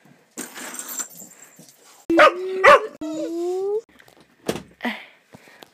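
A dog barks outdoors on a dark winter night, a few loud, close barks and yelps rising in pitch, separated by quieter rustling and background noise.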